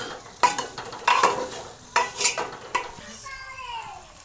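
Tomatoes cook in a pan, and a spoon or spatula stirs them in several bursts of scraping and sizzle with pauses between. A soft, wavering tone trails at the end, all near and moderately loud, with no speech.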